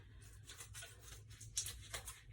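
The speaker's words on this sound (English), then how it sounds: "Might need scissors to get this open." Scissors snip through a plastic vegetable package in a kitchen, a few quick, quiet cutting strokes in an irregular rhythm, close up.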